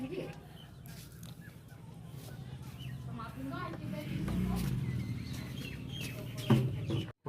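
Chickens at a rural village house cluck intermittently nearby while people talk over them, with a short bump or knock near the end.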